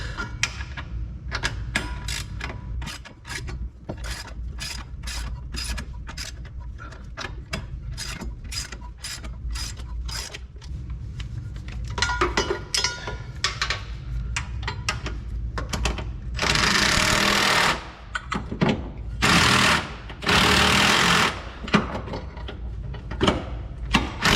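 Ratcheting wrench tightening the bolts on a running board mount of a 2021 Nissan Titan Pro4X, with rapid repeated clicking bursts and a steady low hum underneath, close and fairly loud, getting denser toward the end.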